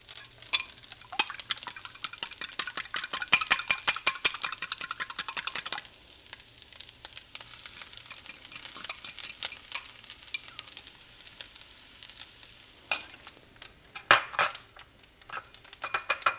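Fried rice with egg, coconut aminos and peas is stir-fried in a pan, with a steady sizzle and rapid clinking, scraping strokes of a utensil, close up and without voices.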